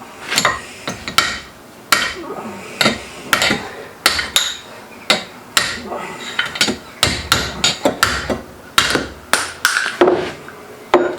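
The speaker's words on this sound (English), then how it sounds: "get your great big fucking hammer again and a chisel" Repeated sharp metallic hammer blows on a chisel, trying to free a stuck socket on a Land Rover Discovery 1, irregular clusters of loud strikes ringing out close by with no talking.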